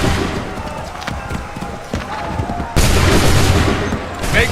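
Musket volleys in Assassin's Creed 3, loud massed firing crackling throughout, then a sharper burst of gunfire with heavy rumbling booms in the second half, battlefield noise filling the scene.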